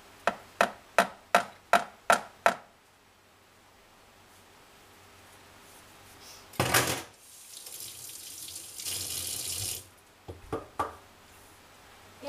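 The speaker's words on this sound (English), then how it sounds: "I wash my hands a lot while I'm cooking." A kitchen faucet runs in short bursts while hands are washed, with splashing water and brief gushes separated by quiet pauses, preceded by a quick series of sharp rhythmic taps.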